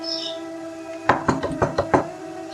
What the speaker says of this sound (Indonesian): mengetuk pintu rumah kayu tersebut dengan keras